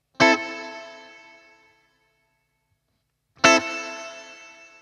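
Two loud struck guitar chords through a plate reverb, each decaying into a smooth, dense reverb tail that fades out over about a second, separated by silence.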